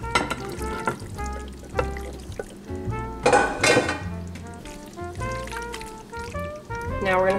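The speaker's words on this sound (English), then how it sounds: "We're gonna pour this into the casserole dish." Casserole mixture poured from a bowl into a casserole dish, with soft pouring and clinks of utensils against cookware, heard among bright kitchen clatter and musical tones.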